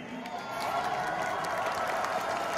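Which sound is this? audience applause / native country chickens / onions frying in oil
audience applause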